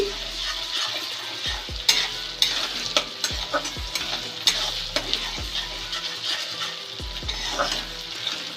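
New potatoes for aloo dum frying in oil, a continuous close crackling sizzle with frequent rhythmic spatula taps and scrapes on the pan, fairly loud, with no voice.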